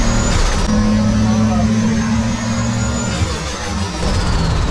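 A Toyota Supra's engine climbs under load in third gear as the turbo comes on boost, a loud, close, steady drone with a whistling turbo tone rising above it while people talk over the noise.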